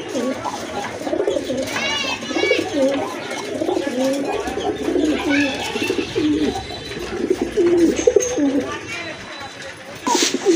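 A pair of Moyna jak pigeons coo in steady, rolling phrases throughout, close and fairly loud, with voices murmuring in the background.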